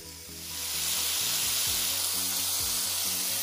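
Pork sizzles and fries in a pan for a Filipino pinakbet, a steady dense hiss that swells within the first second and then holds loud and close, with clinks and scrapes of the pan underneath.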